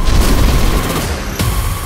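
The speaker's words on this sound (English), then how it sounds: "Then there was an explosion, and after 10 seconds," A deep, rumbling explosion on the Deepwater Horizon offshore oil rig, a sustained roar of blast noise with a sharper burst of debris near the end.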